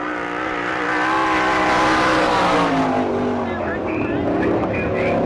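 Sprint car engine racing around a dirt oval at an All Star Circuit of Champions event in Mercer, Pennsylvania, a loud sustained roar with rising and falling pitch as the car laps close by, with an announcer's voice over it.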